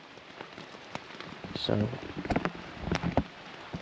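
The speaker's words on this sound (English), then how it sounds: "But rain keeps going away, then getting strong, going away." Rain falls on the Appalachian Trail, pattering steadily and close by, with louder drips and taps on a nearby surface, while a person talks briefly over it.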